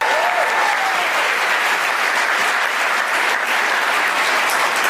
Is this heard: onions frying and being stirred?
no